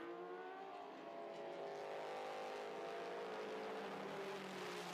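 A GT3 race car and a challenge car run at the Thailand Super Series, a sustained engine drone whose pitch climbs steadily as it accelerates, heard at a distance and fairly faint.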